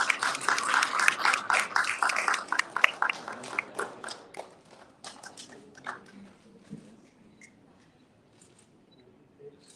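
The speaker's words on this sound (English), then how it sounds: "please give a big applause to Yang Berhormat Datuk Seri" Audience clapping at an opening ceremony in Kuala Lumpur, a burst of lively applause that peaks early, then thins out into scattered claps and fades to near quiet by the end.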